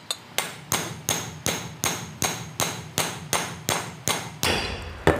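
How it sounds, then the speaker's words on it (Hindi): A hammer strikes a steel ball through the bushing of a submersible motor in about a dozen sharp, evenly spaced metallic blows, close and loud, each with a short ringing decay and no talk. "रख के कुछ भी इस प्रकार का शार्प लेके आपको हथौड़े से ही कर सकते हैं"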